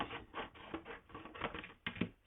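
A paper trimmer slicing through cardstock with washi tape, a series of quiet, scratchy cutting strokes in quick succession, close up with no talk.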